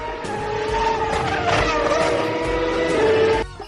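A motorbike engine revs and roars steadily as it rides off, close and loud, then cuts off abruptly near the end.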